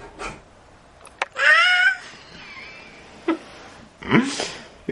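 A pet parrot imitates a cat's meow, giving a few short, clear meow-like calls separated by pauses, with one longer drawn-out call early on and a close, sharp call near the end.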